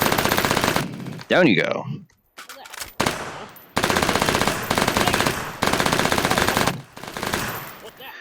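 Bursts of fully automatic PDW gunfire ring out in the VR shooter H3VR, loud rapid strings of shots separated by brief pauses, with a short spoken remark between volleys.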